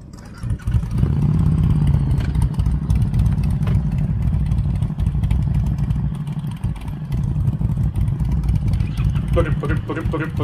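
A motorcycle with its factory stock exhaust runs close by, a steady low engine hum starting abruptly and holding throughout with small rises, while people talk over it.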